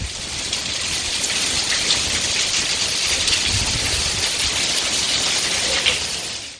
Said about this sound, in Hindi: मंचनाबाद में तेज हवाओं और मूसलाधार बारिश से गर्मी का जोर टूट गया।